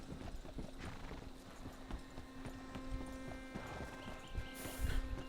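Horse hooves clip-clop steadily at a walking pace in the Red Dead Redemption video game, close and even, over a low ambient hum with a brief louder burst near the end.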